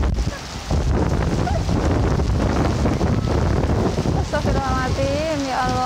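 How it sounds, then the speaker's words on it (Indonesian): Loud, roaring wind in a rainstorm at Man On Shan park batters the microphone in a constant rush, with rain noise mixed in and a few tonal whistles near the end. "Anginnya tambah kencang"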